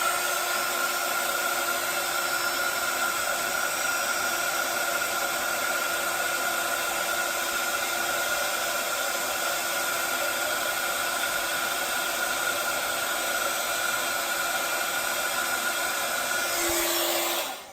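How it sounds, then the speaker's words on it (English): A heat tool blows continuously to set white embossing powder on a stamped card, a loud, even whirring hiss held for nearly eighteen seconds before cutting off abruptly, with no voices. "Give it a quick blow, and then I'm going to heat set that."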